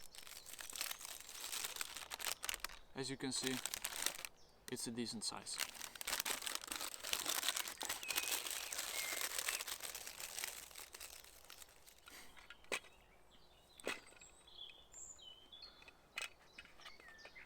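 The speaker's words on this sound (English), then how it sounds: "a fairly big piece of wax paper" A fairly big sheet of wax paper from a pocket-sized fire kit crinkles and rustles as it is unfolded, crisp crackling bursts up close while someone talks over it.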